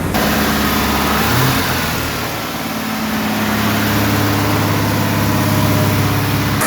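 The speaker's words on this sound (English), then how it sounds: "It's idling really high though, but it's running." A car engine runs steadily at a raised idle, a constant loud drone that barely varies.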